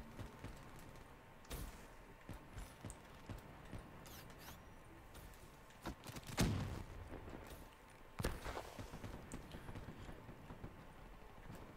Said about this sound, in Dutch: Ik hoor ze gewoon hier boven me lopen.